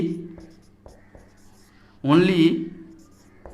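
During an organic chemistry lecture, a marker or chalk makes faint taps and scratches on a board over a steady hum, with a brief burst of voice midway.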